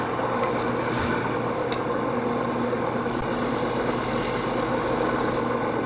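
A skew scraper cuts wood turning on a lathe: a steady rasping scrape over a constant motor hum, with a brief bright scratch near the start and a sustained hissing cut in the latter half.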